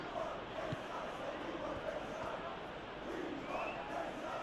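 A stadium crowd murmurs and roars steadily in the Football Life 26 soccer video game during a Leeds United master league match, a faint, continuous wash of noise with no distinct peaks.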